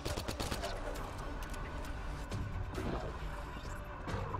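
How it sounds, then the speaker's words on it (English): Gunfire in Mass Effect: Andromeda rattles in rapid bursts of shots and fusillades throughout, mixed with game combat noise while a voice talks intermittently over it. "We're being shot at, but I'm not sure from where."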